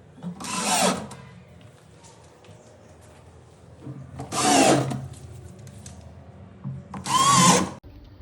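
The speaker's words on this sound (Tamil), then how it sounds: "மார்க் வச்சு நம்ம ஸ்க்ரூ பண்ணிக்கலாம்." Power drill driving screws into the bottom track of a wardrobe sliding door, three loud separate bursts of about a second each, evenly spaced, with quiet gaps between.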